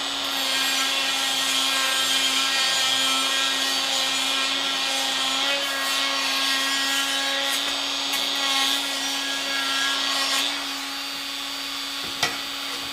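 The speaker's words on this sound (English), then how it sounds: "It's just a flap wheel mounted in a die grinder." A die grinder with a flap wheel deburring a 1.5-inch metal tube for a railing umbrella stand, a steady high whine with abrasive grinding that holds for most of the stretch, then winds down near the end.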